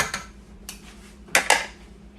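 A spoon stirring carrots and onions in a soup pot, giving a few light metallic scrapes and clinks spaced through a quiet kitchen, with two sharper knocks close together.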